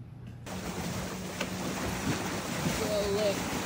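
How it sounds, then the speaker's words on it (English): Ocean waves wash in by kayak docks near a campground, a steady broadband rush of surf mixed with gusty wind noise across the microphone, with no talk. "Look at these waves."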